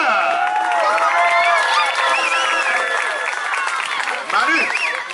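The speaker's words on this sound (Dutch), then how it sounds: "ik wil voor jullie een oor- en overdovend applaus" Loud, dense applause and cheering from a large, excited crowd that includes children's shouts and whoops, sustained steadily throughout with voices calling out over the clapping.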